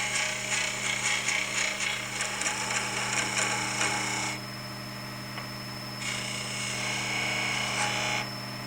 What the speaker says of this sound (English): True up the end with a beading and parting tool, and then create a dovetail spigot ready to hold in a chuck